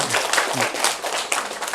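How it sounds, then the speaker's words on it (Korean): A seminar audience claps in brief loud applause, a dense burst of many hands clapping together, close and continuous for a moment. "박수 치시나 크게 치셔야 돼요"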